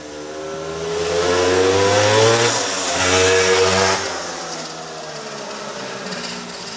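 A restored 1973 Penton 175 Jackpiner two-stroke motorcycle engine revs up and down close by, its pitch climbing, dipping briefly, rising again, then settling back toward idle.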